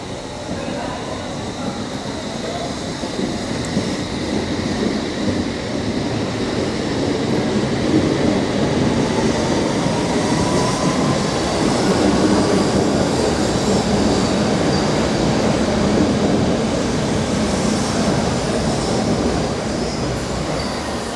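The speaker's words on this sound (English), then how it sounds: "The Metropolitan line is now leaving." A London Underground Metropolitan line train pulls away from a platform at King's Cross St Pancras, a loud sustained rumble with rising motor whine and wheel noise, steady and close for the whole stretch.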